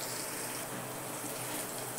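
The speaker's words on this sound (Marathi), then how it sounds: "कॉर्नफ्लोअर आहे ना, ह्यात पाणी घालून घेते." Water pours steadily into cornflour for a cabbage manchurian chutney, giving a continuous close splashing rush with no talk.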